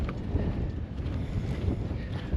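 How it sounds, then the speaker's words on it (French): Wind buffets the microphone at an outdoor building site, a steady low rushing roar with gusty fluctuations throughout, no voices. "Le vent est revenu."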